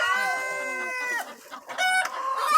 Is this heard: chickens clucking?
yes